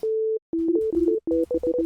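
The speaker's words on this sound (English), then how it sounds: "I can work with a little sine wave action here." Plain sine-wave synth tones from the Pigments synthesizer's default preset: one long sustained note, then a quick run of short stepped notes at a few pitches, clean and alone.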